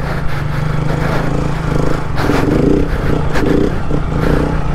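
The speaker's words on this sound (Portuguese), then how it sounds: "Tá pulando muito a moto." A motorcycle engine drones under load while the bike bounces over rough ground, with clattering and scraping knocks breaking through the steady motor sound, close and loud.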